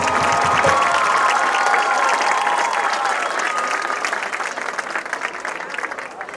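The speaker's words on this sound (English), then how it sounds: "Let's give these ladies a round of applause." Crowd applause at a homecoming ceremony during a Red Bay vs Sheffield high school football game, a loud, dense wash of clapping with some cheering that holds steady and slowly fades toward the end.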